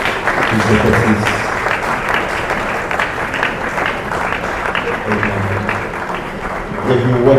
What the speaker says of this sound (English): Somebody let's clap on for all the executives.